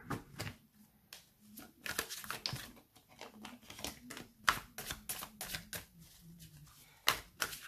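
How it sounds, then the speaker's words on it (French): Tarot cards being shuffled by hand in a steady run of crisp riffling flicks and papery crinkles, close and fairly soft, with short pauses between bursts and no talking. "Allez, je brasse une dernière fois et puis on coupe"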